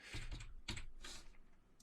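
Computer keyboard keys are pressed for Inkscape shortcuts, sounding as a quick burst of several close clicks, a pause, then a few more taps nearby.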